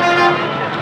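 A long-distance bus gives a short, loud horn toot in busy street traffic, close by, with the honk fading out within a second.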